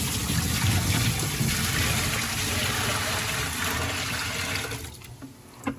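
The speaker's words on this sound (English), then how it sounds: "here's the first dump of the driver's seatbelt water" Dirty wash water from cleaning a Lexus GX470 driver's seatbelt is poured out in a heavy, continuous gushing splash that tapers off into a few final trickles.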